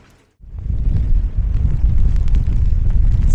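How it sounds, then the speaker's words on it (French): Strong wind buffets the microphone outdoors in cold, pouring rain in the Belgian Ardennes, starting abruptly and continuing as a loud, gusting low rumble. "Ça souffle fort, il pleut à verse, il fait froid."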